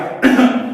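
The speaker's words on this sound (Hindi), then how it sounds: "जैसे बोलते बोलते अगर मैं खांस दिया" A single short, close cough, sharp and loud, standing alone with no speech around it.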